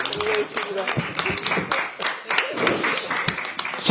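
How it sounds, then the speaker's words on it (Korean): Applause from an audience at a Democratic Party supreme council meeting, dense clapping under a speaking voice, loud and close, with cheering bursts throughout. "이재명 우리 대표님 수고하셨습니다. 큰 박수 부탁드립니다"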